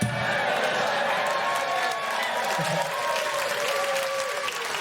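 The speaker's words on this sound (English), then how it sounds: "I'm not entirely sure people were cheering at the joke there" Audience at a stand-up comedy show applauding and cheering, a dense, sustained wash of clapping with scattered whoops that stays loud throughout.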